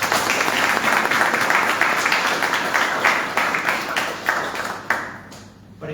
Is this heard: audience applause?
yes